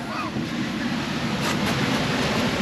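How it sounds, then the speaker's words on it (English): Loud roaring surf surges into a tight sea cave at Oualidia, Morocco, with a broad rushing wash that swells slightly midway, echoing steadily throughout. "all the water goes, a big wave comes, and all of a sudden, whoosh"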